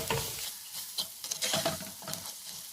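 Kashmiri chili powder and coriander powder are sautéed and stirred in a pan for a chickpea curry, with close, crackling sizzle and scraping stir strokes, and no talking.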